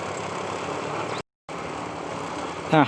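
A John Deere 5065E tractor, a 65-horsepower farm machine, idles with a steady low engine rumble that briefly cuts out, then resumes.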